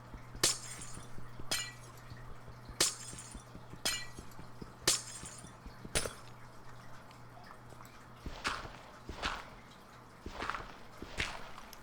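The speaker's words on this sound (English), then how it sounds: "it's ice, but it might as well be glass, right? It's just glass that breaks into water." Ice blocks break one after another in a Minecraft-style modded game, about a dozen sharp glassy shattering bursts at a roughly regular pace over a low steady hum.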